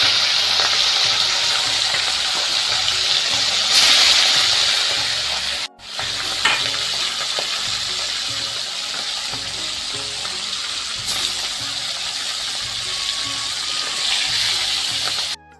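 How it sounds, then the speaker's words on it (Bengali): Fish frying in a pan gives a loud, steady sizzle with no talking, broken only by a brief cut near the middle before the hiss carries on. "এদিকে তো মাছ ভাজা চলছে"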